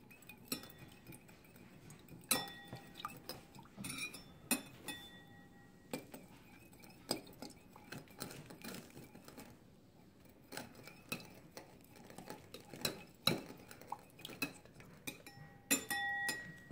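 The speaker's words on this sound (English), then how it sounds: "Let me just keep stirring." A spoon stirs sugar into water in a glass, making quick, irregular clinks and taps against the glass throughout, close and fairly quiet, with brief pauses between bursts.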